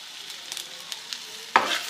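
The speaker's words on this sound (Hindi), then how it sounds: "हल्का सा भूनना है, ठीक है।" Green chillies roasting with gram flour in a pan give a soft, steady sizzle, and a sudden louder burst of frying near the end, close and without speech.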